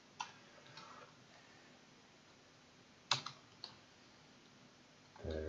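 A few isolated clicks from a computer keyboard, quiet and close, break up a faint background hiss. Someone types an alias into a MySQL query. No one speaks.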